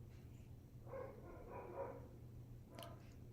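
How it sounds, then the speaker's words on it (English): A dog barks a few times in the background, faint and somewhat distant, over a steady low hum. "my dog is barking"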